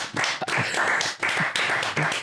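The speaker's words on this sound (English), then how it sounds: "Here's a round of applause." A small group claps in a short burst of applause, several quick uneven runs of hand claps heard close and fairly loud, with no talking over it.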